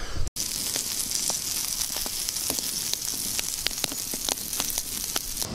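Creek chub fish fry in seasoned salt and butter in a frying pan over an outdoor fire, giving a steady close sizzle studded with frequent sharp pops and crackles.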